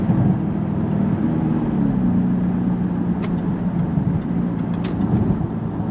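A Jaguar XF R (X250) saloon engine drones steadily while driving, a low, even hum with road and tyre rumble throughout, a couple of faint sharp ticks standing out briefly; no speech.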